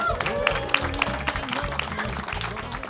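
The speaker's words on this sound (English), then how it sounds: "Please clap it up for Wayne Holtz, Troy Peters, Alyson Alonzo," An audience applauds panelists at an evening music business artist forum, with claps and crowd noise running steadily under speech and a bit of music.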